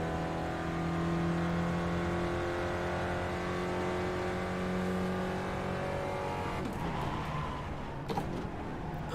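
A race car engine in the iRacing simulator holds a steady, droning high rev for several seconds, then the tone shifts and breaks up near the end, with no talk over it.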